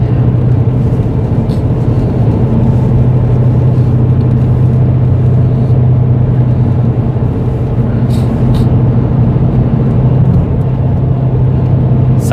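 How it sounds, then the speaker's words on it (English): A Google commuter bus carrying employees between San Francisco and the South Bay rumbles loudly and steadily close by, a continuous engine drone and road noise lasting throughout with no talk. "this is the Google bus"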